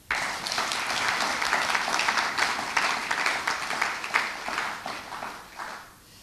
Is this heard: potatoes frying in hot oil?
no